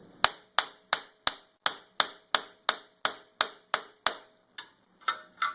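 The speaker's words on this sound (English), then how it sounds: "So I'll go ahead and strike this." A hammer strikes a CV axle on a Mitsubishi Outlander into place, about fourteen sharp metallic blows in an even, steady rhythm, close and clear, with a short pause before the last few.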